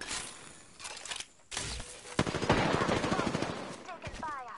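Automatic weapon fire bursts in Apex Legends gameplay, several rapid rattling volleys, loud and close, with short gaps between and game sounds around them.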